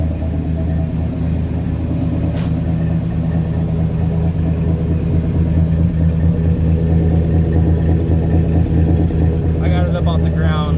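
Idling cammed V6 of a Chevy S10 truck, a loud, close, steady low rumble with a choppy lope that holds throughout, with a slight rise in the last few seconds.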